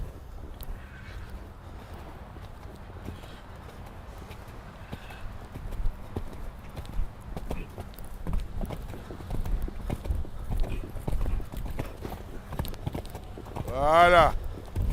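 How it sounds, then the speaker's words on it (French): A horse gallops in a riding arena with rhythmic clip-clop hoofbeats that grow closer and louder, ending with a snort, while a coach speaks over the hooves. "Galope un peu plus."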